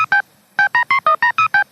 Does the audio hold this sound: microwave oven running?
no